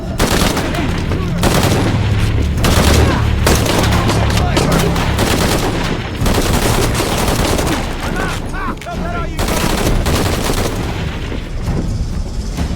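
Rapid bursts of automatic gunfire and heavy shots crackle through a firefight in Shadow of the Tomb Raider, loud and dense with booming impacts, briefly pausing around the middle before resuming.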